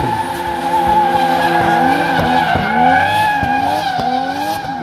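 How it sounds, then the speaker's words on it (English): Lexus and BMW race cars at a motorsport festival scream with sustained engine whine and long tire squeals as they slide, loud and close, rising and falling in pitch throughout. "With Sanam Sekon in the Lexus, Ashwin Katyal in the BMW."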